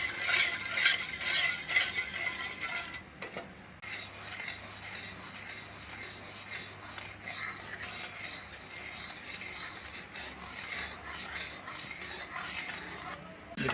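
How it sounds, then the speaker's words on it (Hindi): A spoon stirs sugar syrup for shakar pare in a pan over very low heat, giving a steady, close scraping and clinking with a faint sizzle that runs throughout, with only a brief gap near the start. "चीनी मेल्ट होने तक चम्मच चलाते जाएंगे।"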